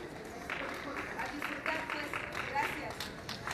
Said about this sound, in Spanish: fuerte, fuerte el aplauso para nuestras anfitrionas